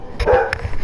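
A dog in the video game Onimusha barks excitedly: a few sharp, close yips and barks in quick succession over a short burst, with no talking.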